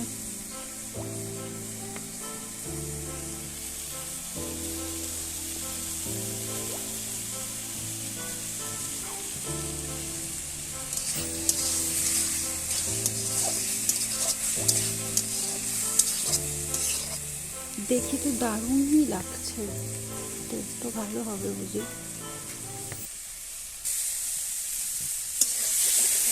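Food fries with a constant sizzle in a wok while a utensil stirs and scrapes it, the spatters growing busier toward the end; music plays underneath and someone briefly speaks.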